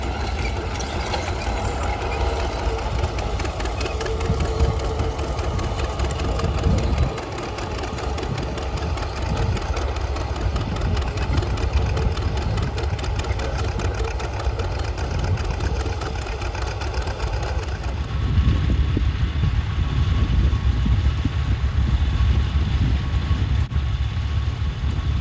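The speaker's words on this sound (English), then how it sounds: "an unstyled G John Deere pulling a 16-inch number 8 Little Genius plow equipped with KA bottoms" Unstyled John Deere G tractor pulling a 16-inch No. 8 Little Genius plow with KA bottoms at a national plowing contest. Its engine chugs in a steady, loud, low rhythm for the whole stretch and rises slightly near the end.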